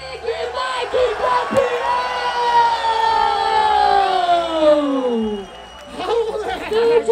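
A live rap battle crowd at a final roars and cheers for a rapper, a loud sustained swell of noise under a wailing siren-like horn that sweeps downward, with voices calling out.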